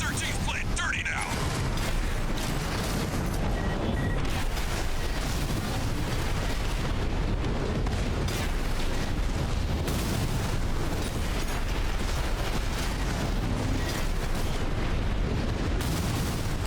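Guns firing and explosions in Armored Core VI, a dense, loud barrage of booms and blasts rolling continuously with no gaps, with a voice speaking briefly beneath the din.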